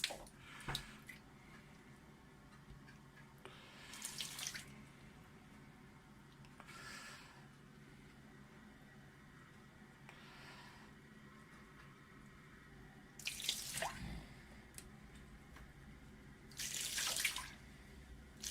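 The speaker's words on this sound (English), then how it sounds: "Let me just apply a little more water." Lukewarm water pours and splashes onto a 12-inch telescope mirror in a few short bursts, separated by quiet stretches, close by and fairly soft.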